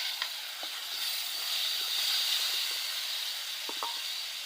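Red lentils hit hot oil in a pan, giving a soft, steady sizzle and hiss with a few faint scattered taps and clinks, fairly quiet and heard alone.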